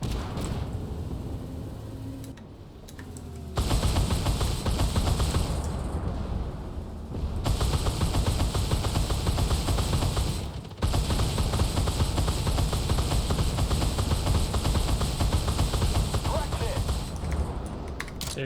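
An XM247 Sergeant York anti-aircraft gun firing in the tank game Armored Warfare, rapid sustained bursts blending with engine rumble and explosions, loud and dense with short gaps between bursts and a voice talking over it.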